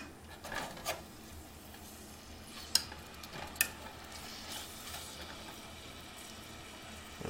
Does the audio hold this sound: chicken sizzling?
yes